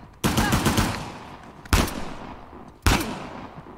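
Three separate bursts of gunfire from the video game Uncharted: The Lost Legacy, each loud and sharp with a decaying tail, spaced roughly a second apart. The first burst runs longer, like a short rapid volley.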